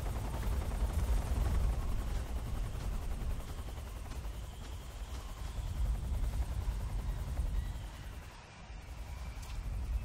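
An enemy helicopter in Metal Gear Solid 3 at a mountain base, with a steady rotor thump and engine drone that swells and fades, and scattered faint gunfire-like cracks.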